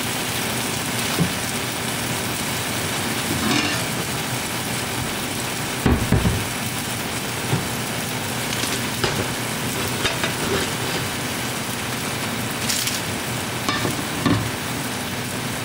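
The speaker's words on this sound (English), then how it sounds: "Gonna let that sizzle." Steady, close sizzling of deli meat frying in a pan, a constant crackling hiss with occasional scrapes and pops, no talking.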